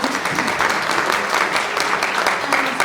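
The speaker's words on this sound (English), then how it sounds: "A big round of applause for the incredible under 18s" Applause at an award ceremony for an under-18s group fills the room, steady and dense throughout, with voices mixed faintly into the clapping.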